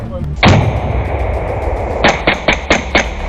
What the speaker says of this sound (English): Gunfire echoed between the trees, clear evidence that the engagement was far from over.